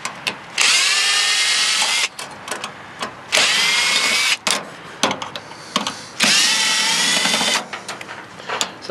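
A power drill removes screws from a microwave oven being scrapped for metal, whirring loudly in three long bursts with clinks and handling noise in between.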